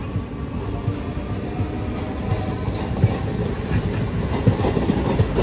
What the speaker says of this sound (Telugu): లోకల్ ట్రైన్ అది.